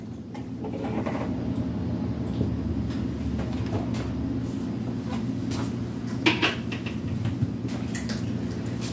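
A freezer door opens and closes in a home kitchen while a chocolate cake is being decorated; a brief clunk and rattle stand out over a steady appliance hum.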